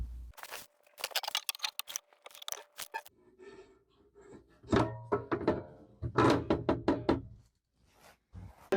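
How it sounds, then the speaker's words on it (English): A closet shelf is fitted with two screws: close, scattered knocks, thunks and sharp clicks come in irregular bursts with short pauses between them. "I'm going to install it right here with 2 simple screws"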